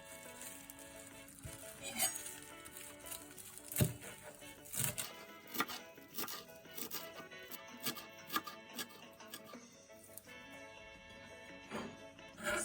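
Fresh parsley is rough-chopped with a knife on a board while prepping for chili garlic prawns: quiet, irregular quick knife taps and scrapes over a low kitchen background, with no talking.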